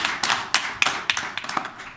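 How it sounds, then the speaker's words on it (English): A small group claps at a board of education meeting, with about a dozen sharp, scattered hand claps over two seconds. The applause is brief and uneven, heard fairly close with no talk. "If I could just take a moment and give a round of applause for the hard work our principals did"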